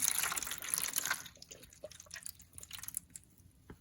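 Water poured from a small bowl into a seed tray, a splashy trickling stream that tapers into scattered drips and small splashes, close and quiet.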